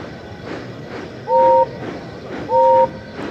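A steam engine whistle sounds twice in short, loud, tonal blasts as the train pulls into a station, over a soft background rumble with no speech.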